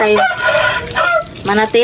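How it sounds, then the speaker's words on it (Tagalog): A rooster crows loudly and close by in several harsh, strained bursts, with brief clucking notes between the calls. "Ang ingay ng manok"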